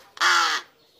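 A single loud, harsh caw from a large crow (gaok type), a young bird near fledging in Bandung, lasting about half a second close by, then quiet.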